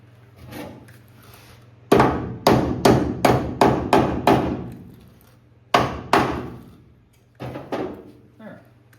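Hinge pins and bushings being hammered into a K5 Blazer door, a quick run of sharp metallic blows, then a pause and a few more strikes, close and loud over a low hum.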